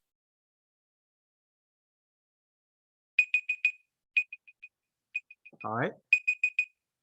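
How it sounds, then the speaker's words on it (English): Short electronic timer beeps sound in quick bursts of three to four clean tones, clear against silence, with a brief word spoken between groups. "when your time is up, you will hear a beep sound"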